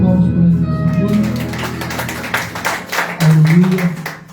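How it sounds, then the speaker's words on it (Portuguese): Light clapping breaks out during a church service, with scattered claps building over a few seconds while a voice speaks and sings through it. "Dê uma salva de palmas para ele."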